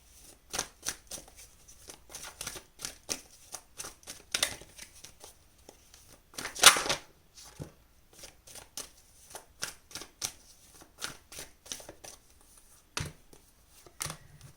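Tarot cards being shuffled and drawn at close range, a long run of quick papery snaps and flicks with one louder riffle midway, alone without talk.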